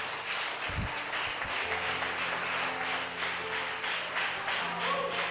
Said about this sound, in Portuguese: essas palmas foi para mim ou para o meu pastor?